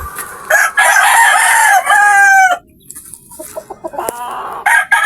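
A rooster crows loudly and drawn-out near the start, followed by scattered clucks from tethered hens and a brief second crow near the end.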